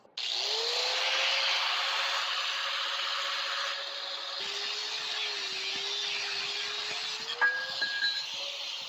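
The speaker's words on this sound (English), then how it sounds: "Now I'll get a cutoff wheel on there and chop that out of there." A cutoff wheel on a power tool grinds through metal on a Coleman CT200U-EX trike, giving a steady, moderately loud whine that shifts pitch as the cut goes on, with a few small knocks near the end and no talking.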